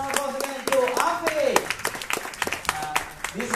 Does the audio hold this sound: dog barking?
no